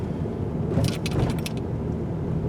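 A 2024 Subaru Impreza hatchback rolls over a large road bump, a low cabin rumble with a brief cluster of rattling jolts near the middle, then steady road noise.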